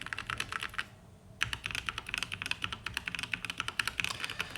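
Typing on a modded Corsair K70 mechanical keyboard produces rapid, crisp clacky keystrokes in a dense steady rhythm close up, with a brief pause early on before the typing resumes.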